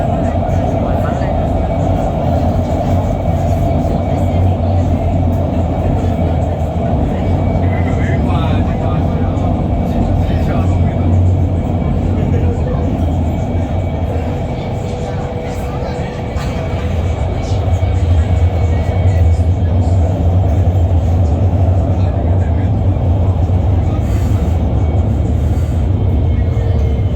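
Shenzhen Metro Line 2/8 through-service train bound for Yantian Road running between stations, with a steady, loud low rumble and droning hum. Mid-run the roar dips briefly, and faint announcement-like voices drift in the background.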